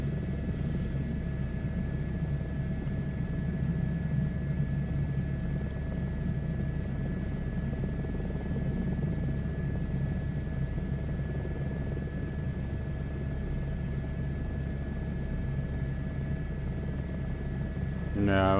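An H125 helicopter flying in Microsoft Flight Simulator gives a steady, continuous rotor and turbine drone throughout, with a brief voice near the end.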